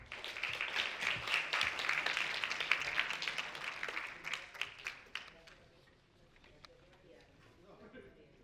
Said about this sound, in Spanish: otro aplauso para ustedes.